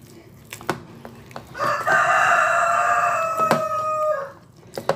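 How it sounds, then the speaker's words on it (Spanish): A rooster crows once in a long, bright cock-a-doodle-doo, fairly close and loud, with brief knocks and clucks before and after it and no talking. "Ya oyeron el gallito, ¿verdad?"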